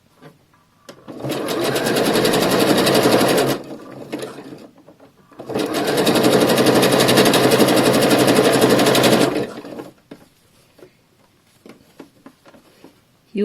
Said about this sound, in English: 3-step zigzag and sew over this line